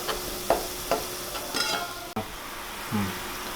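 Chicken sukka frying in oil in a pan, Maharashtrian style, with a close sizzle and a handful of distinct scraping stirs and clacks of the spoon, a brief pause, then more stirring.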